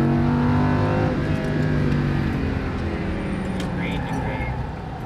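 Lamborghini Huracan LP610-4 accelerating on a race track, its engine a loud, steady drone that holds throughout with a slight rise in pitch, while an instructor talks over it.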